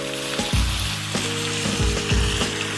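Steak sizzles steadily on a hot grill, a dense continuous frying hiss with a low hum, occasional soft scrapes and small pops close by, with no talking.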